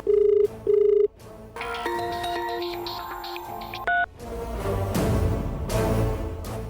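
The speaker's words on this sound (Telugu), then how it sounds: "నీకు ఫోన్ వస్తుంది చూడు." A telephone rings in two short electronic bursts, followed by a stretch of background music and another short tone.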